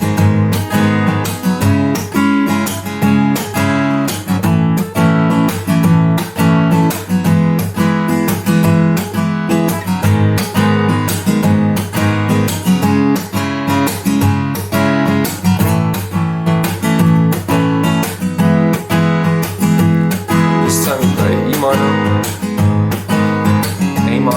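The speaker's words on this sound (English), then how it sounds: "the strumming pattern for the bridge is going to be down, slap, up, slap, up, down, slap, up, slap, up" Acoustic guitar strumming the bridge of a song, a steady driving rhythm of down and up strums punctuated by regular percussive palm slaps on the strings, loud and close throughout with no voices.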